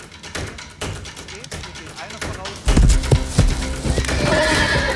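Police horse startled during fire training, loud neighing and whinnying with clattering, thudding hooves close by, intensifying midway amid crackling noise and voices.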